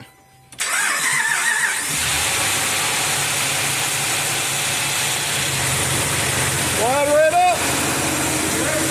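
A Hemi engine with a known tick cranks and catches, then settles into a steady, loud idle with a faint rhythmic ticking; a brief rising whine appears near the end.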